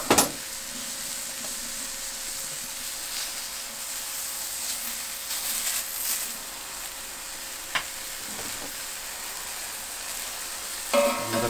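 Maple butter melting on hot charcoal laid over pineapple, a steady soft sizzle and hiss throughout with occasional faint crackles and a clunk near the end.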